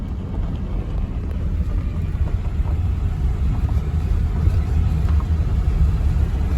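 A truck engine runs out on a farm field during harvest, giving a steady, loud, low rumble that holds without a break throughout, with no voices.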